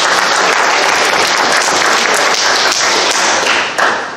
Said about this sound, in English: You want to clap for that?